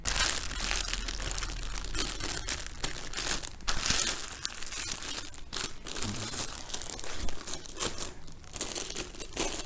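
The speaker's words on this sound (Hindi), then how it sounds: "अब इसको डालेंगे शॉपर में।" Plastic shopper bag crinkling and rustling continuously as a painting is slid inside, close and steady with dense crackles throughout.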